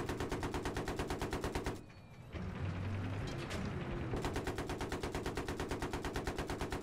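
Tank heavy machine gun in Battlefield 3 firing at infantry, a loud steady rapid burst that pauses for a couple of seconds amid rumbling battle noise, then resumes at the same fast rhythm.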